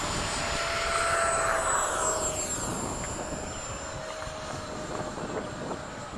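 Two 80mm electric ducted-fan RC jets, an FMS Hawk and E-flite Havocs, fly past at a flying field with a steady whining drone. The whine swells and fades as they pass.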